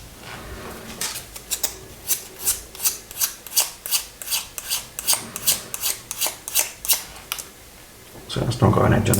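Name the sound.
sanding the ends of a model cannon shell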